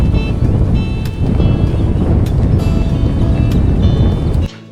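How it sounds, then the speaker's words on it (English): Strong, steady wind roars and buffets against the microphone around a boat, loud and continuous, cutting off abruptly near the end. "It's really windy outside"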